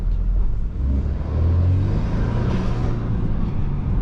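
A BMW F30 328i on coilover suspension accelerating hard through corners, heard from the cabin as a deep engine drone that rises in pitch and stays loud throughout.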